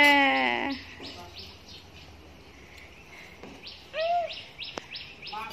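Birds chirp outdoors in a series of short repeated calls, moderately near, over a low background hum, with a louder call at the start and another burst near the end.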